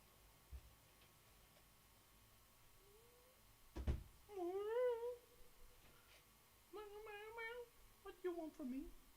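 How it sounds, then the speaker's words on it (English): A house cat meows repeatedly at a door, wanting to be let in, in a quiet room. Several clear, rising-and-falling cries come in bursts with pauses between them, after a soft knock-like tap. "I think a kitty wants to get in here."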